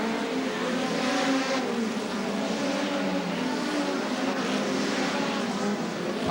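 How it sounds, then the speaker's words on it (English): Hot rods at the 1980 Hot Rod World Final roar steadily past on a drying track as faster cars overtake slower ones, a dense, continuous engine drone with no gaps. "Passing some of those slower cars."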